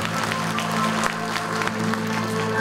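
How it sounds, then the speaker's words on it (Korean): Audience applause at a school vision proclamation ceremony in Chungbuk, a steady wash of clapping from a seated crowd holding at an even level over a low electrical hum. "박수 보내주시기 바랍니다."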